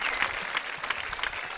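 Applause from a tennis crowd at the Seascape 2005 finals, a steady, fairly close wash of clapping with a few louder individual claps and no voices over it.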